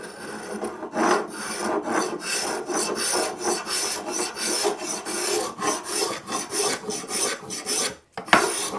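A hand tool shaves and rasps across a timber guitar body in repeated rhythmic strokes, each one a close, scratchy rub with brief gaps between passes.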